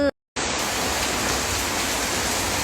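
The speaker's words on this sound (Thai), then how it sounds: "อุ้ยวันนี้มาพร้อมกับสายฝน" Steady rain falls in a dense, even hiss close by on a chilly morning, after a brief moment of silence at the start, with no voices over it.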